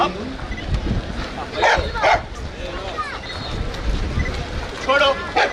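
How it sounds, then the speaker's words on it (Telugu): A police dog barks and yips a few times amid a noisy outdoor crowd, with voices talking over it. "ఈ డాగ్ పేరు హిందూ."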